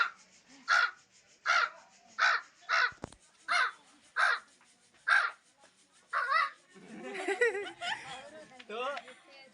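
A man imitates a crow, giving a steady series of about eight sharp, nasal caws in even rhythm, then breaks into laughter and chatter with others nearby.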